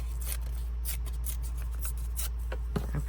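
Paper being torn by hand for a collage: a few short, crisp ripping strokes in quick succession, close and clear over a low steady hum.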